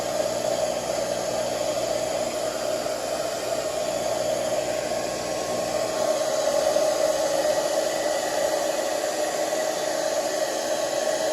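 A hair dryer blows steadily while a full beard is dried, a close, constant whooshing airflow that runs alone for the whole stretch and shifts slightly in tone partway through.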